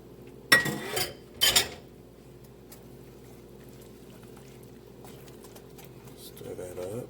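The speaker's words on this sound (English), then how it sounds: "Stir that up." A spoon stirs Haitian oxtails in a pot with extra water added, giving two loud metallic scrapes and clanks early on, then a quiet low simmering hum.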